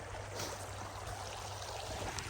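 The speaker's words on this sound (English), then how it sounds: "this is the deepest that this creek gets" Water runs over a shallow creek bed in beaver country, giving a soft, continuous babbling and trickling that stays faint and even throughout, with no voices.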